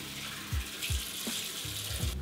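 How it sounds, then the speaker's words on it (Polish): Tap water runs steadily while a face is rinsed clean of night skincare at a bathroom sink, with a few splashes and soft thumps as hands bring water up to the face; no voices. "I spłukuję pod wodą."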